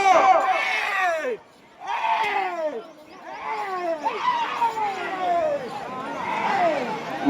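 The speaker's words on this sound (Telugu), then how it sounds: "కేకలు విజిల్స్." Spectators at a village bullock-pair ploughing competition shout and whoop with rising and falling cries and whistles, a loud, energetic crowd with brief lulls between bursts.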